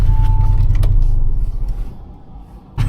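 A 460 hp Audi S3 engine drones low and loud from inside the car while driving, with a deep rumble that gradually eases off and a brief clunk near the end.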